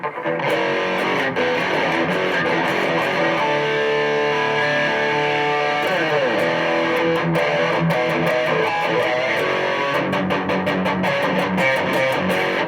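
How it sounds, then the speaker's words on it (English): A loud, distorted electric guitar plays a chunky power chord riff, with sustained crunchy chords and quick choppy strums, alone and up front. "All I'm doing is taking that power chord,"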